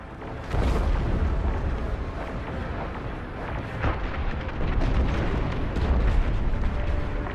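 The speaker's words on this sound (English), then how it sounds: "The frigate is about to explode." A frigate blows apart in Star Wars: Squadrons with a loud, rolling explosion, a dense roar and crackling debris that keeps rumbling without a break for several seconds.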